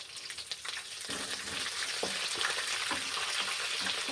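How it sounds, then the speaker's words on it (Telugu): Peanuts and dried chillies fry in hot oil in a home kitchen, giving a steady, close sizzle with scattered sharp crackles and pops running throughout, with no voices. "పల్లీలు కూడా మనకు చిటపటలాడుతూ పగులుతున్నాయి కదా, ఆ విధంగా మారేంత వరకు ఫ్రై చేసుకోవాలి."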